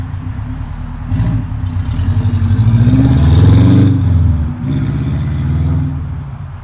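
A car with a turbocharged Subaru EJ22T DOHC engine, running too much boost and still rich, drives past with a steady loud low drone that swells and revs up near the middle before easing back, with no talk.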